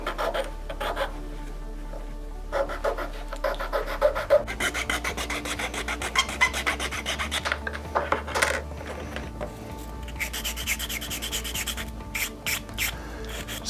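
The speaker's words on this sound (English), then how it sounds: "Just use a handsaw and just going to eyeball it to where it's relatively close." A handsaw cuts a plastic squirt gun part for tabletop sci-fi terrain, producing close, rasping back-and-forth strokes in uneven bursts with short pauses between runs.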